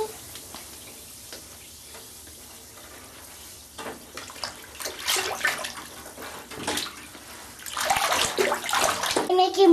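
A bath bomb fizzes and bubbles in bathwater, a soft watery hiss with splashes that grows louder toward the end, while someone talks over it.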